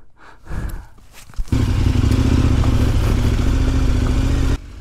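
A heavy, tall motorcycle on a trail ride starts up after a few clattering handling noises, then its engine settles into a loud, steady low rumble close by for several seconds before cutting off abruptly.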